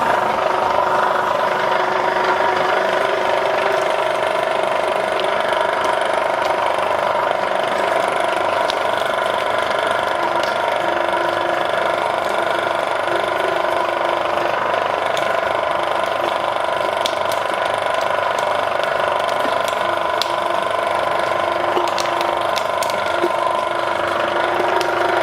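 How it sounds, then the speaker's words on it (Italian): A meat grinder mincing pork for homemade Calabrian nduja runs continuously for the whole stretch, a steady mechanical whir and rattling grind with ratcheting clicks, close and loud with no talk. "ho ridotto a pezzi piccoli e vado a macinare"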